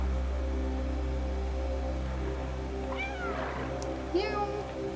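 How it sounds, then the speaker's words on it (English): A cat meows in the Stray video game, a couple of short plaintive meows near the end over a steady low hum and quiet ambience. "Can I meow at you?"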